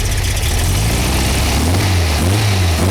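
A heavy engine idles with a deep, steady rumble up close, its low drone shifting slightly in pitch toward the end.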